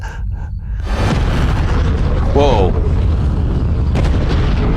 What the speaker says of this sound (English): One massive explosion over there, one over there.